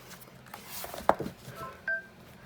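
A mobile phone gives a few short, faint electronic beeps and tones in a quiet room, spaced irregularly over a couple of seconds.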